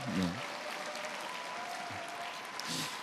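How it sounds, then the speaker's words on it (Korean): An audience applauds at a church fellowship ceremony, a steady faint wash of clapping that runs through the whole clip, while a voice speaks briefly at the start and again near the end. "박수로 축하해 주시기 바랍니다."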